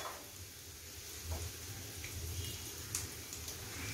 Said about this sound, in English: Just a minute you are going to saute them.